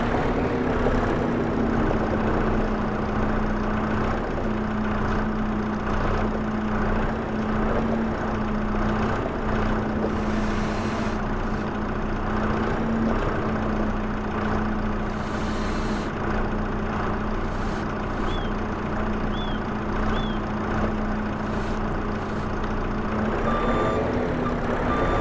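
A truck reversing in the video game Farming Simulator 25: a steady high reversing beep with a diesel engine humming and idling underneath, continuous and close, with no talking.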